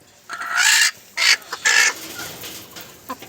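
Native chickens suffering from colds cluck close by in a few short bursts with brief pauses, ending in a couple of softer clucks.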